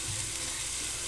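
Onion and garlic frying in a pan alongside smoked fish, a steady, close sizzle that holds evenly for about a second with no voices.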